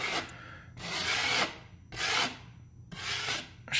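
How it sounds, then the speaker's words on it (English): Three long strokes of a blade scraping excess drywall compound off a wall hole repair, close and steady, each rasping drag separated by brief pauses. "Scrape off your excess."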